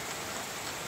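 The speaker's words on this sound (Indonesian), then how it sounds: "Waduh, mau mancing belut malah hujan nih, kehujanan." Steady rain pours down in a garden, a dense even hiss of drops on leaves and ground with no pauses and no voices.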